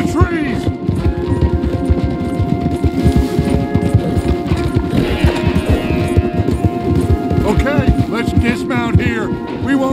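Horses' hooves clip-clop in fast, dense rhythm in Red Dead Redemption 2, loud and close throughout, with game music tones and brief voices over the hoofbeats.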